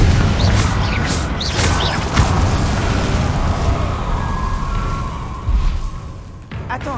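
Confringo spell blasts in the video game Hogwarts Legacy erupt loudly, with a heavy rumbling explosion, crackling debris and a few sharper pops that slowly fade, then a final thud.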